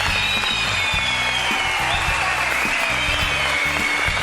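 A steady, loud wash of audience applause at the O Ses Türkiye televised singing competition, continuous and unbroken, with a faint tonal hum running through it.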